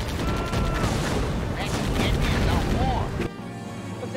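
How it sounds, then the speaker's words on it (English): Units in Blitzkrieg fire their weapons in a dense, continuous clatter of gunfire and booms that stays loud for about three seconds and then cuts off abruptly to quieter background noise. "Now they're shooting when I tell them to shoot locally."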